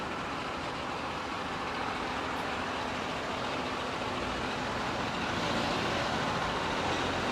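Buses and other road traffic in Seychelles, a steady broadband rumble of engines and passing vehicles at moderate distance, continuous for several seconds with no clear speech.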